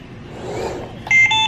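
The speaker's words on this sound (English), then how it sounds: "we're gonna create an alarm" A training device sounds its alarm in a few short, loud electronic beeps at the end of the clip, after a brief muffled rustle.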